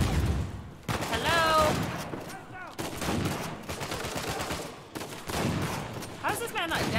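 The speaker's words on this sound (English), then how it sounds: "Headshot with a shotgun." Shotgun blasts in Uncharted 4 during a firefight, several loud, close booms spaced apart, with other game effects and a voice talking over the action.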